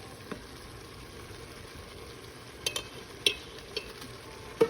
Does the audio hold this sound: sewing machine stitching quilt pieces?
no